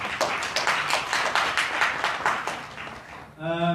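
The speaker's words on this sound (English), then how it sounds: "Can we please also give them a round of applause, ladies and gentlemen?" Audience clapping at a business conference for women entrepreneurs, a close, fairly loud run of claps that stops abruptly, followed by a brief voice.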